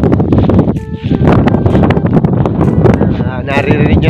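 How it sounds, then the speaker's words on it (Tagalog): Strong wind buffets the microphone outdoors in loud, gusty roaring bursts, while someone speaks over it. "lakas na hangin"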